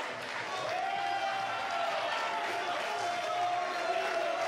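Packed capacity wrestling crowd at ICW New York in Queens applauding and cheering, a continuous roar of clapping and noise beneath a commentator's voice.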